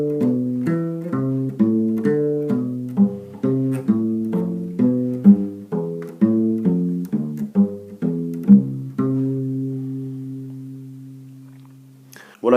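Electric bass playing descending triads in a steady pattern of plucked notes, clear and close with no other instruments, the last notes left ringing before a sudden thump at the end.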